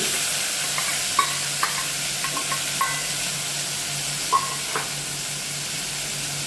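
Pointed gourd pulp frying with onion, ginger, garlic and green chili paste: a steady, even sizzle with a few sharp taps of a spoon against the pan.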